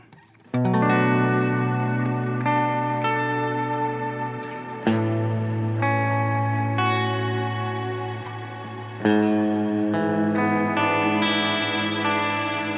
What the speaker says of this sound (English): Now this is actually the patch where I set up a dual reverb. Let's hear that.